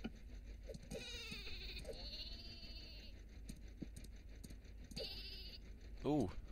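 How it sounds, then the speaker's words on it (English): A sheep bleats in the Worms W.M.D. video game, a few wavering bleats among other game sound effects, with a louder, nearer bleat near the end. Players talk over the game sounds. "That's a sheep."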